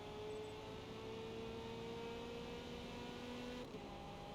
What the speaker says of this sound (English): I gotta pass this pink Porsche though.